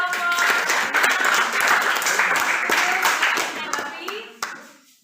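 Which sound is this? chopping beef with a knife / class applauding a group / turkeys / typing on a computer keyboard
class applauding a group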